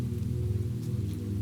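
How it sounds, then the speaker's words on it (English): Steady, soft rain falls on city rooftops as an even, gentle hiss, with a low, calm drone beneath it throughout. "rain was steady now"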